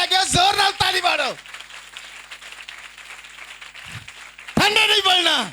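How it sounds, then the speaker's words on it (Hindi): A church congregation at a Sunday sermon claps loudly together in a sustained burst, with a preacher's amplified voice speaking before and after the applause. "जोर नाल ताली मारो"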